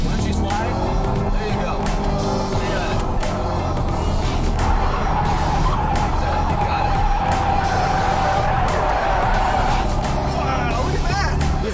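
A Chevrolet Corvette E-Ray hybrid sports car accelerates hard, briefly squealing its tires, with a sustained rising engine and road roar. People talk over it throughout.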